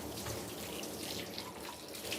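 Warm tap water runs steadily into a basin while a dog is bathed, a soft continuous close splashing hiss with faint drips and no voices.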